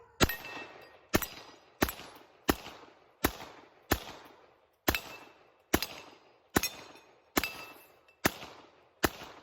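A CZ Tactical Sport Orange competition pistol chambered in .40 cal fires about thirteen sharp shots at an even, steady pace, each with a short decaying echo, with no talking.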